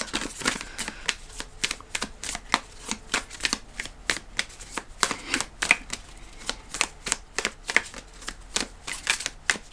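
A tarot card deck is shuffled by hand in a rapid, steady series of crisp riffling bursts, close and fairly quiet, with no talking.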